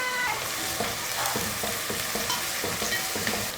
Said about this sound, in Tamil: எண்ணெய் காஞ்சதுமே வெங்காயம் சேர்த்துக்கலாம்.